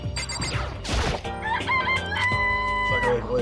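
Chickens in a Danganronpa video game chicken coop, with clucking and rooster-like calls over steady game music and effects, moderately loud.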